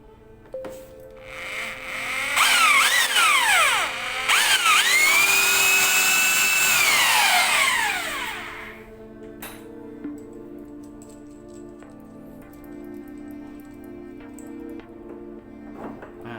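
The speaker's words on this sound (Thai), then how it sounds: "มาเจาะดูตรงนี้นะที่มาร์กเอาไว้" A power drill whines at high pitch for several seconds, rising and falling as it bites into plastic, then stops, leaving quiet background noise.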